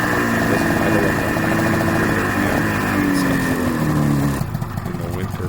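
A Ski-Doo snowmobile engine runs up close and loud with a steady buzzing drone and shifting pitch, then drops in level near the end, while someone talks over it.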